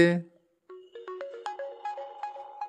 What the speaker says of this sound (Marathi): आता फोन आला वाटतं कोणाचा तरी.